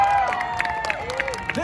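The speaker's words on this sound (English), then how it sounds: "If I catch it and I don't burn my finger, you guys clap and cheer." A street-show audience on London's South Bank clapping and cheering after a performer's fire-torch trick: scattered claps and whoops over a murmuring crowd, with a voice carrying across them.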